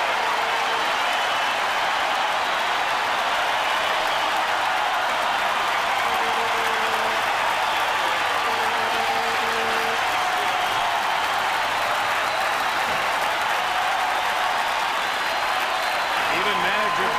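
A baseball stadium crowd applauds Nolan Ryan's 4,000th strikeout with a steady roar of clapping and cheering that fills the background for the whole stretch, while a broadcaster talks over it.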